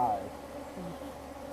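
Honey bees buzzing around an open hive during a honey harvest, a close, steady low hum that persists for the short moment, with a voice briefly heard over it.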